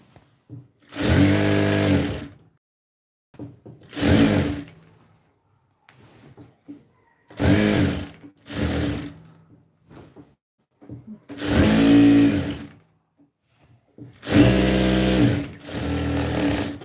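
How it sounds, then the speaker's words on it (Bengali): A sewing machine runs double stitching in six short, loud bursts of rapid whirring, each lasting one to two seconds, separated by quiet pauses. "আমি সবগুলো সেলাই ফিনিশিং সহকারে ডাবল করে দিচ্ছি"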